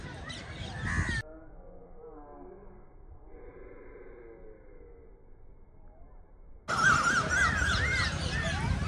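Crows caw harshly outdoors at dusk, with loud noisy stretches at the start and end and a quieter, muffled patch in between.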